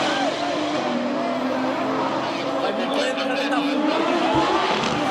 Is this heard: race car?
yes